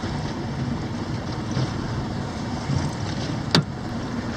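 A fishing boat trolls across a lake against wind and incoming tide, giving a steady low engine hum and wash with wind noise, plus a brief sharp click near the end.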